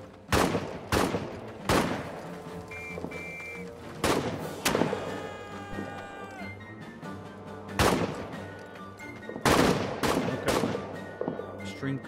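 Rifle covering fire in the World War I trench game All Quiet in the Trenches: sharp, booming shots spaced a second or more apart, loud and close, with ringing tones and scattered battlefield noise between them.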